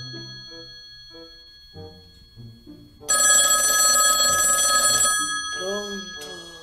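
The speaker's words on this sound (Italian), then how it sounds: "Erano le 4 quando il telefono di casa Jelling suonò." Home telephone bell ringing in an Italian radio drama, a loud continuous electric ring lasting about two seconds after narration, followed by a voice.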